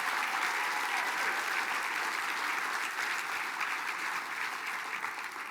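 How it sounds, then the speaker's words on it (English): An audience applauding Rihanna, a former youth council co-chair, at a Mille Lacs Band of Ojibwe event: a full, sustained burst of clapping that fades slightly toward the end. "Round of applause for Rihanna, please."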